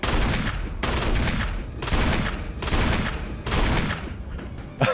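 Dense bursts of gunfire in Resident Evil, several long loud volleys in a steady rhythm with brief gaps between them, no talking.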